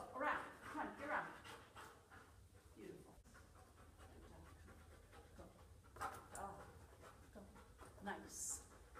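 A herding dog panting during sheepdog training outdoors, rapid breathy puffs under a handler's intermittent calls and some wind and field noise.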